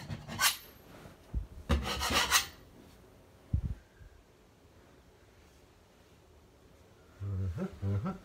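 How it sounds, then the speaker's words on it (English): A putty knife scrapes a wall during prep for painting, making several short, rough scraping strokes close by, separated by quiet gaps. "You have to make sure you have equal, even pressure on your putty knife to scrape."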